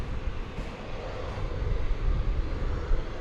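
Airbus airliner taking off at night at DFW Airport, a steady broadband jet roar building gradually from a distance and swelling slightly louder toward the end.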